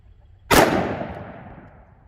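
A single sharp, loud shot from a 10mm pistol firing an Underwood XTP 180-grain round at an indoor range rings out and decays over about a second and a half, with no talking.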